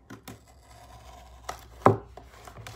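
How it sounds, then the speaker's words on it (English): Knife blade slicing through packing tape on the bottom of a cardboard box: a few soft scraping rubs, then one sharp louder tearing cut near the end, with light scuffs around it, close up and with no talking. "And I gotta cut through the box thing"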